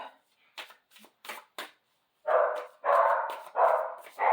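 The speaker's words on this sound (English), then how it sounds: "And my dog is going crazy." A dog barks repeatedly at home in a run of loud, close, separate woofs following some earlier softer rustling or card-like shuffling sounds.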